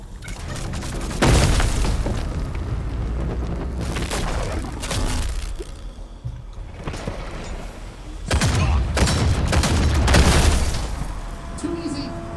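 Gunfire and heavy explosions boom in the sci-fi tank combat game TankHead, two long roaring bursts of blasts and rattling fire separated by a quieter stretch, with someone speaking briefly between them.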